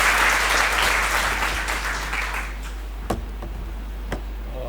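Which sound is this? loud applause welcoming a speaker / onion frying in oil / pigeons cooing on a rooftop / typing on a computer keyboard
loud applause welcoming a speaker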